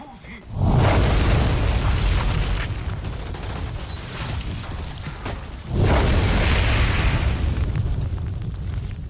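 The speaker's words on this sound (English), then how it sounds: "I'm going to fire a wave that deals 39 damage and inflicts burn onto all enemies in its path." Heatwave fire skill from the Pyromancer class in the shooter game Outriders, two loud roaring fiery blasts, each swelling into a sustained rumbling rush, with a voice talking over them.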